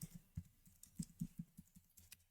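Someone types a short command on a computer keyboard in an office setting. It comes as a quick, uneven run of about a dozen distinct key clicks, fairly close and isolated, with no talking.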